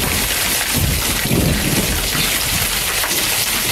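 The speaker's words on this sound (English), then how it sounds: "there's a thunderstorm coming" Steady heavy rain pours through a thunderstorm, with a low rumble of thunder swelling in the middle, all loud and continuous with no voices.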